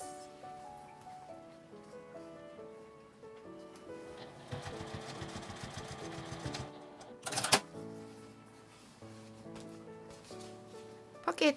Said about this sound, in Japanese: D カンに通して表布の左端から2センチのところに仮縫いしておきます。